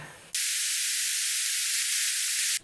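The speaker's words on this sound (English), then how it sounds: "A little bit of white noise here." Steady, loud hiss of white noise switching on abruptly and holding flat for a couple of seconds before cutting off.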